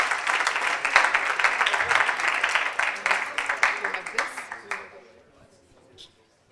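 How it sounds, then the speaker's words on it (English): Crowd applause at a startup pitch event, with dense, steady clapping that fades out toward the end, leaving near silence. "Please give him a huge round of applause"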